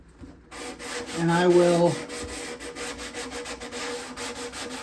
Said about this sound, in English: sand the guitar lightly, like I'm doing now, with 150.